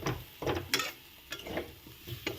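Small potatoes and cauliflower being stir-fried in a pan, a series of short scraping stirs with faint sizzling between them, close and quiet with no talk.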